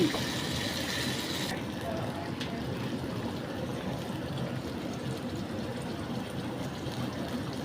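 Water poured into thick tomato paste in a cooking pan gives a steady, close rushing hiss that eases slightly after the first second and a half, with no talking.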